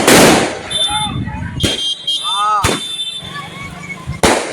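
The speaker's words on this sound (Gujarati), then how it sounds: "અવકાશી નજારો ફટાકડા પડે છે આતશબાજી છે આપ જોઈ શકો" Fireworks and firecrackers burst at the 226th Jalaram Bapa birth anniversary celebration in Amreli: several loud sharp cracks with whistling rockets between them, and a voice speaks briefly.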